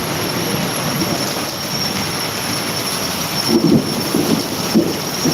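Thunder rumbles through a torrential downpour in Jam Kandorana over a constant wash of heavy rain, with two deeper low rolls swelling toward the end.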